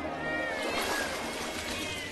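Cartoon cats meow in a short burst of high, cute calls layered over a busy background, several overlapping mews rather than a single cry.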